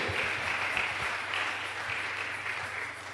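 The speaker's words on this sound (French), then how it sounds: "Est-ce que tu peux acclamer pour toi-même?" Church congregation at an Easter celebration service applauding and cheering, a dense, steady wash of clapping and voices filling the hall throughout.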